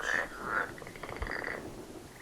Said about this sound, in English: That sounds like a green tree frog.